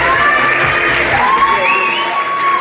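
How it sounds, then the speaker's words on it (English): A crowd at the Football West State League Division 1 grand final claps and cheers for runners-up Fremantle City, a steady outdoor roar threaded with a few high whistles and shouts. "Could we please have a round of applause for our runners-up, Fremantle City?"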